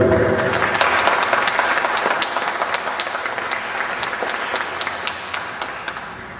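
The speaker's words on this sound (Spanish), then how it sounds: "Este aplauso." Audience applause at a book presentation event, with sustained, dense clapping throughout and crisp individual claps standing out, gradually easing toward the end.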